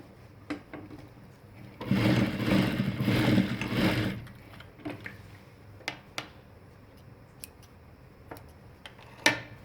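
A sewing machine stitches a seam into ladies' pant fabric in one steady run of about two seconds, followed by scattered light clicks and taps as the cloth is handled.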